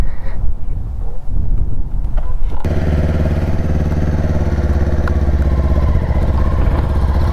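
A motorcycle engine runs steadily while riding, loud and close, under heavy rumbling wind buffeting. The engine tone becomes clearer and more even partway through, with no clear talk.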